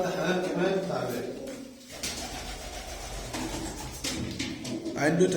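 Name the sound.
domestic pigeon cooing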